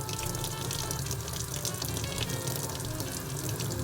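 Hot water running steadily from a household tap fed by a combi boiler, a continuous broadband rush at a constant level with no pauses and no talk.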